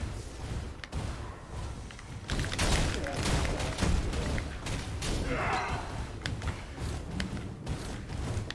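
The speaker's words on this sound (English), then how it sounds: "I can hear deafening cannon fire coming from the bulwark's core" Repeated heavy booms and thuds of cannon fire in the video game Torchlight Infinite, with crackling impacts and mechanical clatter, loud and irregular throughout.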